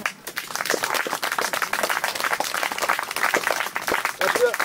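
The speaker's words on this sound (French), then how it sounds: "Eh, on peut l'applaudir, hein?" A crowd applauds at a live sword demonstration, a dense continuous patter of many hands clapping through the whole stretch, with voices mixed in over it.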